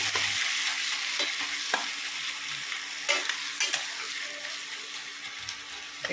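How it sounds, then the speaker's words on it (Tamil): Onion, tomato and ginger-garlic paste sauté in a pan on an induction stove, giving a steady close sizzle with scraping stirs throughout and no talk. "நல்லா வதங்குது"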